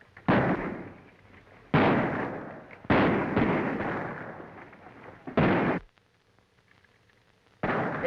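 Battle gunfire in a war film comes as several loud, heavy bursts of shots and blasts, each lasting a second or more and separated by brief pauses.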